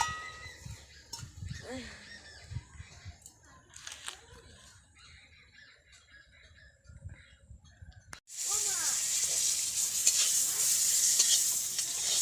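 Bori, onions and chillies frying in a pan: quiet stirring and clatter under talking at first, then a sudden loud, steady sizzle that fills the rest.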